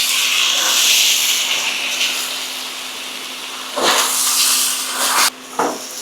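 Sauce hitting a hot pan of beef and broccoli sends up a loud, steady sizzle and hiss, with bursts of sharper scraping as everything gets tossed around, and a quick pause near the end.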